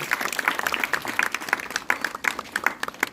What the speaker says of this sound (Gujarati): આપણે સન્માન થાય એટલે તાળી વગાડી અને એમનું સ્વાગત કરવું